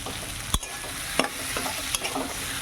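Chandramukhi potatoes sizzle steadily in a hot pan while a spoon stirs them, with several sharp scrapes and clinks against the metal.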